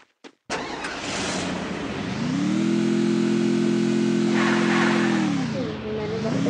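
Jeep engine in the video game Free Fire starts abruptly, then holds a loud, steady droning hum that swells as it revs and dips near the end, with no talk over it.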